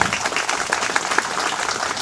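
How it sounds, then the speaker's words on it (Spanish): A crowd applauds, a dense continuous clatter of many hands clapping at once, loud and close. "Un aplauso para esta alegría"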